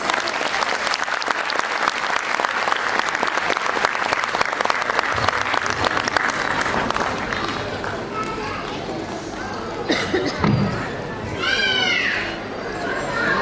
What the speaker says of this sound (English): So parents, let's welcome them with a huge round of applause.